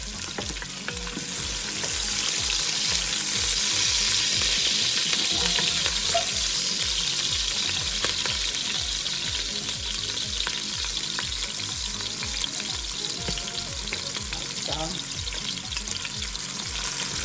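Onion frying in a pan over medium heat, a steady close sizzle and crackle with occasional stirring scrapes, continuing for the whole stretch without talk.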